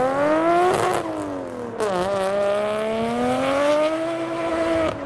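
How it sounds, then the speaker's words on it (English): A Nissan R33 with an equal length exhaust manifold revs hard, a loud, smooth, high-pitched engine wail climbing and falling across a couple of rev sweeps with a short dip between them. "This is what an R33 sounds like with an equal length manifold."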